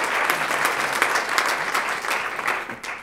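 An audience applauds Daan and Wouter at the Starter van het jaar 2017 awards evening in Venray. The clapping is steady and dense from many hands, holds moderately loud for about three seconds, and starts to thin at the end.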